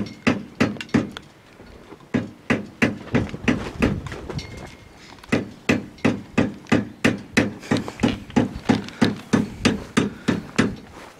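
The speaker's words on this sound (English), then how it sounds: "We got a hammer out." A hammer strikes repeatedly on a radio-controlled model airplane at a flying field: sharp, evenly spaced blows close up, with short pauses between runs of strikes.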